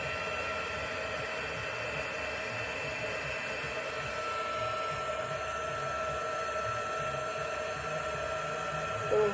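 A heat gun blows over embossing powder on a craft gift tag, melting it from grey to silver. The steady, close airy drone runs unbroken throughout.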